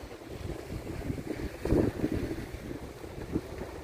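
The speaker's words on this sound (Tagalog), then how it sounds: "Mahangin. Bising-busy na siya." Wind gusts by the water at Hänö Klåva in Sweden, a low, steady rushing with a stronger buffet midway, close on the microphone, with faint waves beneath and no voices.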